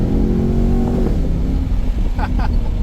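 A Chevrolet SS engine revving up during a drive, loud and close. The deep, steady drone rises in pitch and keeps going as voices talk over it.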